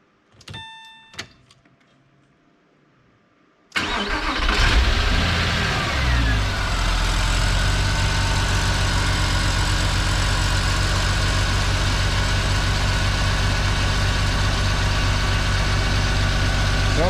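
A few faint clicks and chimes, then a Porsche Boxster engine, unused for two years, cranks and catches, settling into a loud, steady idle that runs on without pause.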